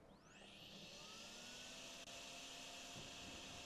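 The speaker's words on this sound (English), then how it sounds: "That's a vacuum." Steady whooshing vacuum suction drawing up water in the drain-cleaning game DrainSim, a continuous even roar with a rising whine at the start, alone without talk.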